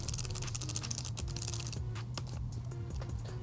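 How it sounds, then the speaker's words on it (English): A lock nut on a Womet-Tech Evos shorty lever on a 2024+ Yamaha MT-09 is tightened down, making a quick run of faint, close clicking ticks over a low steady hum. "And now we're going to tighten that nut all the way down"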